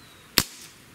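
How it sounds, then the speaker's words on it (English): A single sharp crack from a Dan Wesson 715 .177 pellet revolver with a 4-inch barrel, loud and brief, with a short fading tail and no voices. "Let's do 5 shots with the 4-inch and see how we do."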